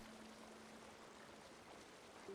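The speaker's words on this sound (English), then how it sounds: "we gotta check the waterfall." Steady, faint rush of a waterfall in a small village in the video game Tiny Tina's Wonderlands, a constant watery hiss with no breaks and no voices.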